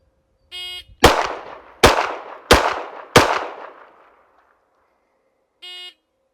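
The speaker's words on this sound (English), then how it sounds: "the first footage you're going to see is the performance of the metal frame pistols when I fired it through this test protocol" Four sharp, loud metal-frame pistol shots at an even, quick pace, each ringing out with a short decaying tail, bracketed by a beeping shot timer before and after.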